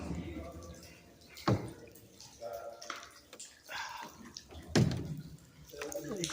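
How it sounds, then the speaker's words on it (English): Water drips from the ceiling of a canal tunnel, a few scattered drops landing in echoing splashes, with a person talking quietly between them. "Dripping water up ahead."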